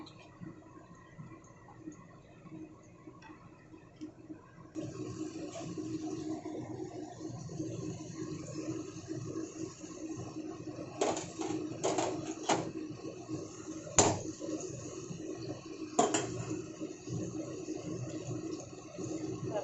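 Chopped ginger, garlic, onion and tomato go into a hot pan for chicken kalija karai bhuna. A soft, steady sizzle starts about a quarter of the way in, with a few sharp utensil clanks.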